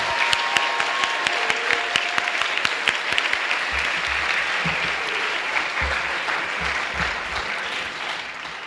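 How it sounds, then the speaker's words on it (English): An audience at a spring orchestra concert applauds the parents, with dense, sustained clapping filling the hall from start to finish and a few louder individual claps standing out. "One more round of applause, please,"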